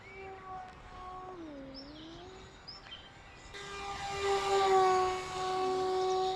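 The electric motor of an RC model bomber plane whines at full throttle, its pitch rising and falling as it passes overhead, then swelling louder and closer near the end.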